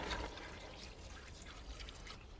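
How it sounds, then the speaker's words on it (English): Water poured into a pot of veggie soup with black pepper and veggie stock, a steady close splashing stream that runs for a couple of seconds without a break. "And then fill it up with water."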